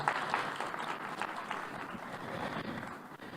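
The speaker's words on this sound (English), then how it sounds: "Can I get a round of applause for these two?" Audience applause at a Monster Mash event, a steady wash of clapping from a crowd held at moderate level through the few seconds, with no clear talk over it.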